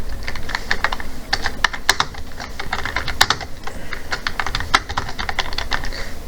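Rapid, uneven clatter of keys as a line of PHP code is typed on a computer keyboard, close and clear, with bursts of sharper keystrokes and no voices.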